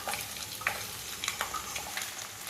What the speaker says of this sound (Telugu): అల్లం వెల్లుల్లి పేస్ట్ వేగిపోయిందండి